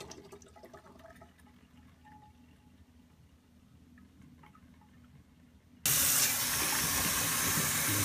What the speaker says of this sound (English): You can see we'll just filter off this strainer and go filter some more. We don't want that hops in the wort.